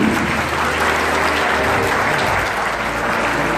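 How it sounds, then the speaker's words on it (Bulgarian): Sustained applause from a large crowd, dense and steady clapping throughout with no pauses. "Аплодисменти."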